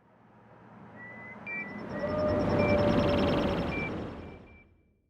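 A TIE Fighter style vehicle effect built from a layered elephant roar, vocal layers and bass swells up from quiet into a loud, screaming, tonal roar with whistling overtones, then fades away over about five seconds, no speech.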